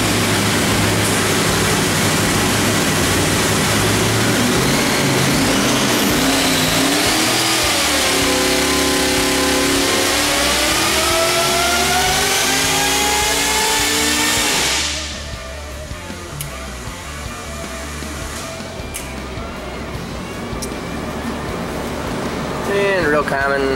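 A car engine revs hard during a dyno pull, its pitch climbing loud and steady for about fifteen seconds before the throttle snaps shut and it drops to a low idle that slowly builds again.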